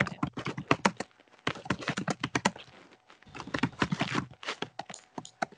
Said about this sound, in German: da tippt jemand laut in die Tastatur